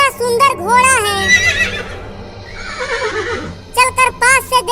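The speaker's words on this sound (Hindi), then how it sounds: "कितना सुंदर घोड़ा है," A horse in a desert setting neighing and whinnying in several loud, wavering bursts, with hoof clip-clops and background music.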